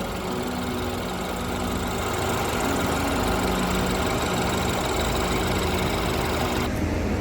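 A 2014 BMW 328i engine idling with the hood open, a steady close-up drone with a faint rapid ticking texture, running evenly throughout with no talk.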